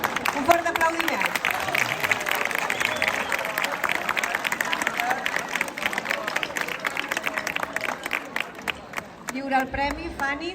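A school award ceremony crowd bursts into steady applause for a student prize winner, with clapping filling most of the moment and a speaker's voice returning at the end.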